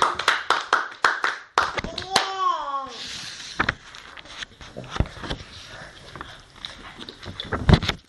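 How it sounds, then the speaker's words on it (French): A church congregation at a French hymn service claps in sharp, rhythmic bursts, mixed with brief sung and spoken voices and a rising vocal slide, the claps loud and close at the start and end. "Applaudissez."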